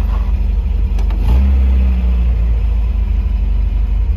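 Steady, close idle of a 1977 MGB classic car engine running a little fast on choke, a continuous low throbbing rumble with one brief rev bump early on and no voices.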